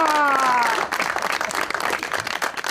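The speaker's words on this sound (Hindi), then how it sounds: "आपकी भरपूर तालियों में" A studio audience on a Pakistani television show applauds a guest's entrance, dense clapping rising over a brief musical tone at the start and continuing loudly to the end.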